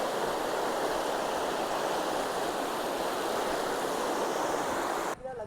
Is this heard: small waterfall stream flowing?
yes